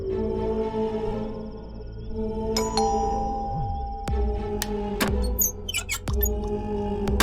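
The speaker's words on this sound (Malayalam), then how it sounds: "നമുക്ക് പോയി കോളിംഗ് ബെൽ അടിക്കാം." A house calling bell rings in a Malayalam TV drama scene, sounding several clear chiming tones in a row over a low background hum, with a few sharp clicks near the end.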